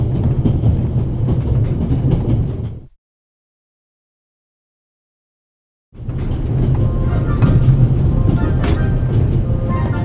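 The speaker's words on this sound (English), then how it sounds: "The noise on this train is driving me crazy." A moving train rattles and rumbles loudly in the video game The Raven Remastered, a heavy rolling clatter that cuts out completely for a few seconds before resuming at full strength.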